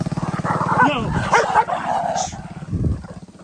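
Dogs yip, bark and whimper loudly and close by in a brief street scuffle as a motorcycle passes in the Philippines, the noise rising and falling with a frantic, uneven rhythm.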